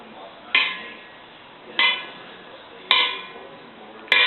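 Spoons knocked together by a young child, four sharp metallic clinks spaced about a second apart, each ringing briefly before fading, close and fairly loud in a quiet room.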